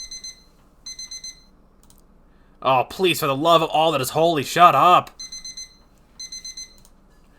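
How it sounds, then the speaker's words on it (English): A digital alarm clock beeps in short repeated bursts of paired tones, clear and steady, while a woman groans and complains loudly over the middle stretch before the beeping resumes. "That's our alarm going off."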